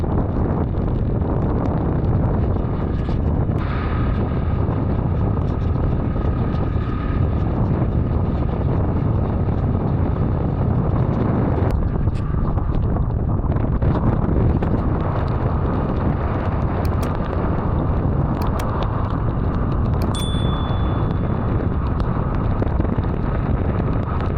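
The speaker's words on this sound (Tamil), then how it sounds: "இப்பொழுது காத்துண்ட வேகம் அதிகரிச்சிட்டுது" Strong storm wind in Jaffna roars and buffets continuously across the microphone, a loud, low rumbling gust with no letup and no talking.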